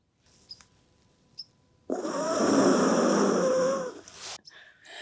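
Someone blows into small holes in a structure to imitate an elephant's trumpet, producing one long, loud, breathy hooting tone lasting a couple of seconds, preceded by faint clicks.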